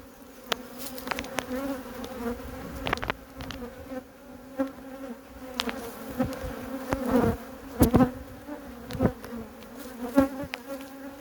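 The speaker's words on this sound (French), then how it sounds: "Je vais vous montrer la visite d'une ruchette, un essaim 2022." Honeybees buzzing steadily around an opened nucleus hive holding a 2022 swarm during a spring inspection, a dense close hum with individual bees flying past the microphone and occasional sharp knocks and clicks.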